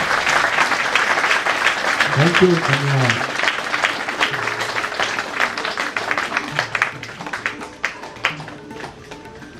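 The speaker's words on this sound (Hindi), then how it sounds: "कृपया जोरदार तालियों से आप सबका स्वागत करें।" Audience applause at an outdoor Yoga Day programme in Indore, a dense clatter of many hands that gradually thins toward the end, with a voice briefly speaking over it.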